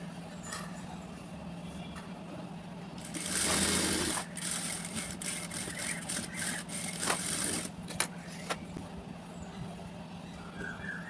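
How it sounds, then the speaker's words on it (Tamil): A sewing machine stitches an extra straight safety seam on saree fabric being made into a kurti top, running in a steady mechanical whir with short stops and restarts, close by and moderately loud. "நான் எக்ஸ்ட்ரா வந்து சேஃப்டிக்காண்டி இன்னொரு தையல் நான் வந்து ஸ்ட்ரைட்டாக போட்டுக்கிறேன்"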